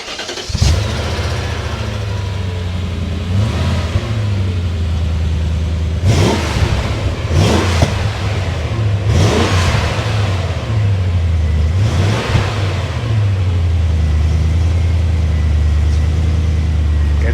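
A BMW Z8 engine revs repeatedly in a series of sharp throttle blips over a steady low rumbling idle, loud and close, with no talking.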